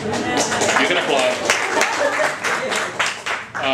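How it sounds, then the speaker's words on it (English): A crowd at a memorial gathering breaks into applause, a short burst of clapping that begins to thin out near the end, with some voices mixed in. "You can applaud."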